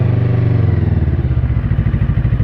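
An FKM Falcon X400 motorcycle engine runs close by on a bypass road, a loud, steady, throbbing mid-pitched drone with a rapid pulsing beat and no voices.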